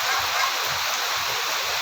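Heavy rain pours down outdoors during a whole-pig lechon roast, a dense, loud and unbroken hiss with a faint voice underneath.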